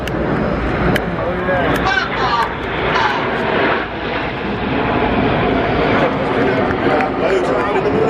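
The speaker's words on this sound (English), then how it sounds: "Right hand side, the aircraft are moving into Apollo." Red Arrows display jets fly in formation at the MCAS Miramar air show in 2019, a loud continuous jet roar sweeping overhead while a commentator talks over the public address.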